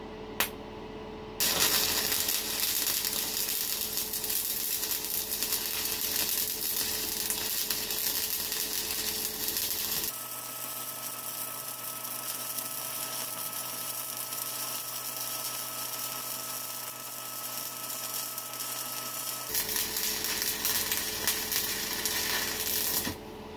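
Electric arc welding bead laid with a figure-eight (lazy eight) weaving hand motion, a steady crackling sizzle that runs continuously at close range, with a change in tone partway through and no talking.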